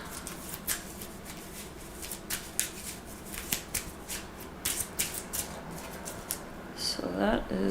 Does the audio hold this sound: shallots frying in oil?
no